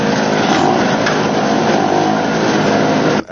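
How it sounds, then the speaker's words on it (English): Two small petrol generators run together on equal fuel, a steady loud engine drone filling the whole stretch, cutting off abruptly at the very end. "I filled both generators with the same quantity of fuel, turned them on,"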